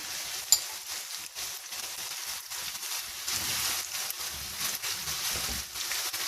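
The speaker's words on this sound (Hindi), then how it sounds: "अब इसमें मैं साथ में ये मैरिनेटेड चिकन डाल रही हूँ।" Marinated chicken added to fried ginger-garlic paste gives a steady, close sizzle of frying for biryani. A single sharp clink sounds near the start, and the hiss continues without pause.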